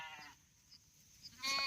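Sheep in a village flock bleat faintly a few times against quiet background, followed by a louder, nearer bleat at the end.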